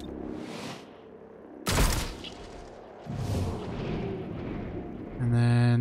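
Gunfire in the XCOM Chimera Squad video game: a loud, sharp blast followed by heavy rumbling booms and echoing bursts, with a game tone at the end.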